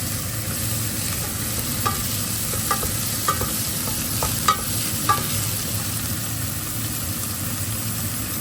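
An onion frying in a pot as the base for a Thai carrot soup with coconut milk and lime gives a steady sizzle throughout, with a few soft stirring clicks and taps scattered through the middle. No one speaks.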